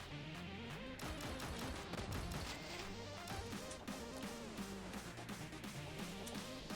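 A machine gun firing in the video game Snezhinka: Sentinel Girls 2, with rapid, evenly spaced shots in a continuous stream over layered game music and effects.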